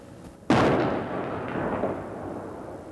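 The gasoline tanker Jupiter, a 390-foot ship carrying millions of gallons of fuel, bursts in a single sudden loud blast that rolls into a long, fading roar of burning fire.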